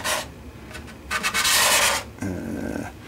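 A sharpened card scraper shaving curls from wood during a guitar build, top purfling and binding work: close, rasping scrape strokes in bursts, with a long sustained pass in the middle and a lower, rougher stroke near the end.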